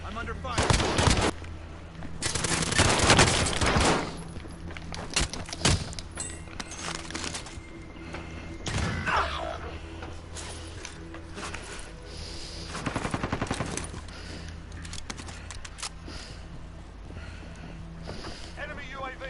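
Video game gunfire with bursts of shots, loud early on and then sparser and quieter, mixed with rumbling background noise and spoken game lines.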